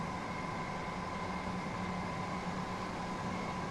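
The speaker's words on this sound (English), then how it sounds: "the noise of it, for me, it sounds like how I would expect the train to be sounding" A train runs steadily in the video game Train Sim World 6 on the East Coastway route, a constant rumbling drone with a steady tonal hum and no breaks, loud and close.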